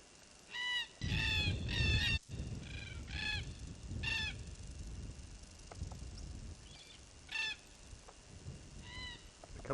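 Large black birds give harsh, repeated squawking calls, some overlapping in bursts, against a noisy outdoor background.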